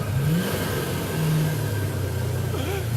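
A Nissan S14 fitted with a Chevy LS2 V8 revs loudly and close by, its deep engine roar surging and dipping in pitch over a few seconds.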